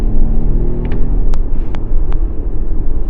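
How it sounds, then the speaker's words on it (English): A Volvo XC90 on winter tires launches at full throttle on a wet floor, a loud steady engine roar with tire spin, broken by brief sharp clicks and squeaks. "Left foot on the brake, floor the accelerator. 3, 2, 1, go. Wheel spin, wheel spin."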